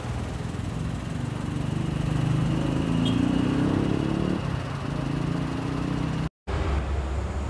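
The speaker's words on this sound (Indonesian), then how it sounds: "Suara mesinnya masih halus ya." Suzuki Karimun GS 1000 cc small family car engine idles smoothly in a showroom, a steady low hum close by with a brief rise in intensity mid-way, heard alone without talk.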